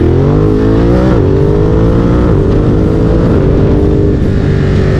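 A loud Ducati Monster 937 motorcycle engine revs steadily with a rising, droning pitch that dips and climbs again as the throttle is worked, with no voices.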